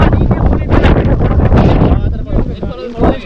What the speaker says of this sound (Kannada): ಬೇಜಾನ್ ಗಾಳಿ, ಎಲ್ಲಿ ಏನು ಕಾಣಲ್ಲ.